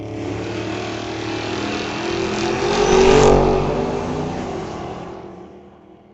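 Drag racing launch of a 1965 Chevy Nova wagon against a 1967 Camaro at a raceway strip, engines roaring louder as the cars accelerate away, peaking mid-run, then fading, with no talk.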